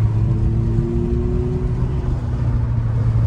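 An Abarth 500e Scorpion Track electric car plays its artificial engine sound at idle, a steady low synthetic hum with faint rising tonal lines, continuous and close, with no voices.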